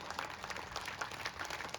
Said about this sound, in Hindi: कमजोर तालियां एक बड़ी बात पे।